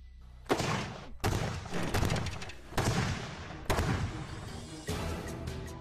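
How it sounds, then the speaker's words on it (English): A sonic blaster device fires about six loud, booming blasts in irregular succession. Each burst is sharp and close, and its rumble carries into the next shot. "After several more shots, the sonic blaster is beginning to break apart."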